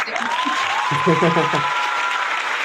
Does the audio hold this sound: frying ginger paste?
no